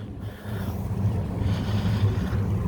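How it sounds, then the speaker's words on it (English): Wind rising while sailing a sailboat on the Cape Fear River near Wilmington, North Carolina, a steady low gusting rush over the microphone with water and hull noise close by. "Wind's starting to pick up a little bit."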